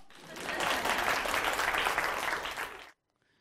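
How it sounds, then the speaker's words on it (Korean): Applause from a studio audience during a Korean history lecture show, dense and steady clapping for nearly three seconds before cutting off abruptly into silence. "박수 쳐!"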